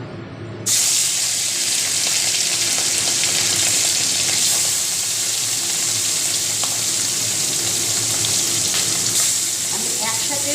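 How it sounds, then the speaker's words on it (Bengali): Mureli fish rubbed with salt and turmeric fry in hot oil in a wok, giving a loud, continuous hiss and sizzle with a few faint clinks near the end. "মাছগুলো এভাবে আলতো হাতে লবণ হলুদ মাখিয়ে মাছগুলোকে ভালো করে ভাজা করুন"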